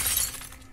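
A glass test tube character shatters in an animated show, a loud bright crash of breaking glass that rings for about a quarter second and then fades out as scattered tinkling fragments.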